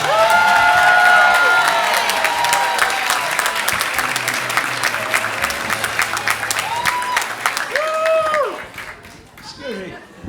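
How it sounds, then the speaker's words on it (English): An audience at a stand-up comedy show breaks into loud applause and cheering, strongest at first and then tapering off, with a voice speaking over the fading clapping. "Big round of applause for Peter Gibbions!"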